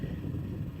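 Wind gusting across an open-air high school graduation ceremony, a steady rough rumble buffeting the microphone with no voices heard.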